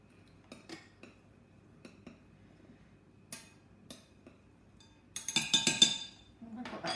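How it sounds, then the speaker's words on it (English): Metal spoon clinking against a bowl while mixing baking powder in, a string of light, scattered taps and scrapes, close and quiet, ending in a brief flurry of faster clinks. "you're just going to mix that into the bowl, just with your spoon"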